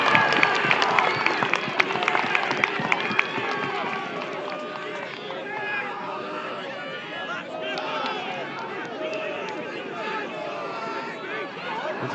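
A rugby union crowd at a men's Roses 2022 match cheering and applauding as the home side attacks, a dense roar of claps and shouts that is loudest at the start and then settles into sustained crowd noise.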